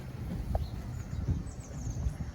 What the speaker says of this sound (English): a big gust of wind